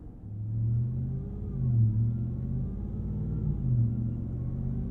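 A 2022 RAM TRX pickup's supercharged V8 drones low and steady under light throttle from inside the cab, swelling slightly with each throttle input, though no distinct high supercharger whine stands out.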